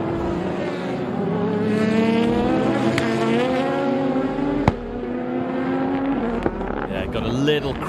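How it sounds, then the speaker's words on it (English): A GT500 race car engine roars and shifts pitch under load, with sharp popping anti-lag crackles as the throttle lifts, loud and close, with a commentator talking over it. "Got a little crackle of the anti-lag as he came off the throttle there"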